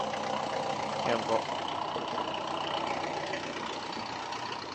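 A 4JB1 turbo diesel engine fitted in a Jeep Wrangler idles with a steady, even drone throughout. Someone speaks briefly over it.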